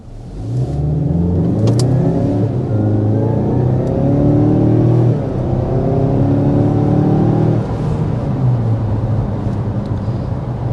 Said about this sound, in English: full throttle acceleration from a stop